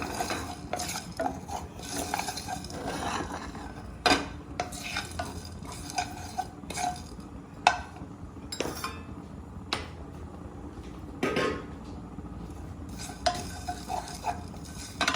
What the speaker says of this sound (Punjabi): ਇਹਦੇ ਵਿੱਚ 1 ਚਮਚ ਕਾਲੀ ਮਿਰਚ 1 ਚਮਚ ਜੀਰਾ ਇਹਨੂੰ ਡਰਾਈ ਰੋਸਟ ਕਰ ਲੈਣਾ